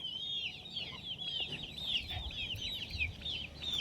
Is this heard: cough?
no